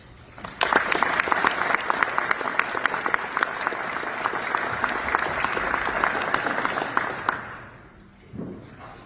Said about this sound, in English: Please help me welcome Colonel Adam Larson to the stage